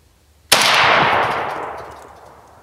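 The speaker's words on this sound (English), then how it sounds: "we'll let my son shoot twice" Single rifle shot, 7.62x39 or 7.62x54R, fired outdoors at a GE clothes dryer: one sudden loud crack followed by a long fading rumble.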